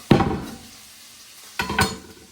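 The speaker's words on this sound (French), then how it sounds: "donc là on va laisser saisir la viande" Beef shank with its bone and marrow, searing in butter in a saucepan, gives two short bursts of sizzle and clatter as it is stirred, close and fairly loud, separated by a near-quiet pause.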